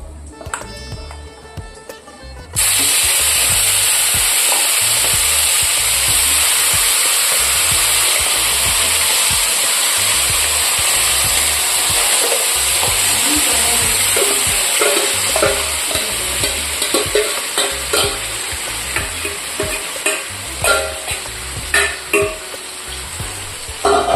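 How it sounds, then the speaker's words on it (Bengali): Fish frying in a pan, a loud, steady sizzle with bubbling oil and occasional crackles and spatters that continue without a break, and no talking. "তো এদিকে মাছগুলিও ভাজা হয়ে গেল"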